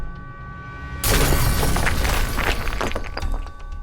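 A loud movie explosion as a tunnel collapses: a sudden blast after a quiet second, followed by a dense crashing, crumbling rumble with debris-like breaking sounds that keeps on to the end.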